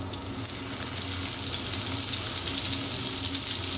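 Three tablespoons of butter melting in a pan on low heat, giving a steady, even sizzle close by with no talking.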